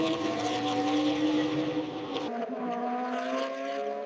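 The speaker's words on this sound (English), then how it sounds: "The throttle is wide open, demanding everything." A supercar at wide open throttle in a drag race gives a loud, sustained high-pitched engine roar that suddenly drops in pitch partway through, as if shifting gear.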